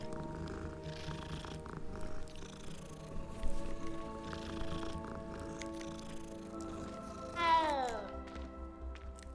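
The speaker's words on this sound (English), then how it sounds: "How friendly all the cats are around here." Cats purr and murmur close by, with one clear rising meow near the end, while a spoken voice runs underneath.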